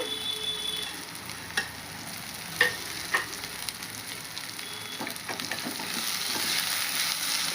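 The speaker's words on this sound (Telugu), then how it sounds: "ఇందులో ఇప్పుడు నేను కొత్తిమీర వేస్తున్నాను" Coriander stirred into a sizzling pan for a yogurt chutney, a steady hiss of frying with a few soft knocks and scrapes from the spoon, close and alone.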